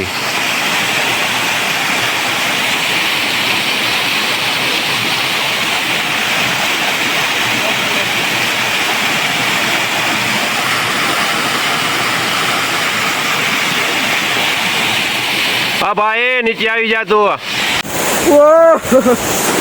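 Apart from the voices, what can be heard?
waterfall in the forest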